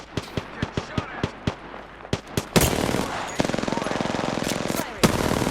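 Gunfire in the video game Apex Legends: a string of sharp, separate single shots, then a loud sustained burst of rapid automatic fire with a heavy final report, close and dominant, with no talk over it.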